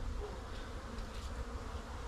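Honeybees inside an observation hive give off a soft, continuous low hum, faint and steady with no voices.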